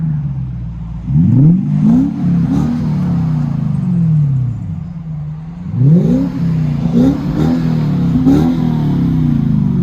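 A deep 4.3-litre V8 exhaust on a Lexus SC430 with muffler delete idles with a low rumble, then revs up sharply several times in quick bursts, loud and close.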